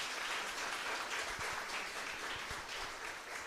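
Congregation applauding in a church during a sermon, a dense steady wash of many hands clapping at once, sustained and fairly loud throughout.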